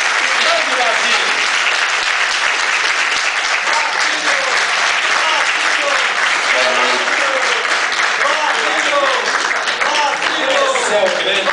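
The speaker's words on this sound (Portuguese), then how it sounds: "Basílio, também conhecido como Babá, na salva de palmas." Sustained, dense applause from a theatre audience at the Teatro Corinthians, loud and continuous throughout with crowd voices mixed into the clapping.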